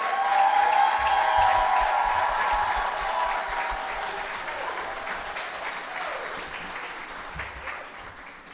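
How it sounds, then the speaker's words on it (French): Applause from a church congregation at a closing worship service, broad and steady at the start and slowly thinning out over several seconds, with no voices over it. "Applaudissez-les."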